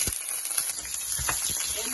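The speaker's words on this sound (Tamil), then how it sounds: "எல்லாம் போட்டு ஃப்ரை பண்றேன் பாருங்க." Fennel seeds, cumin, coriander and dried chillies fry in a pan with a soft, steady sizzle and a few scattered rattles as spices shift, while a voice talks over it.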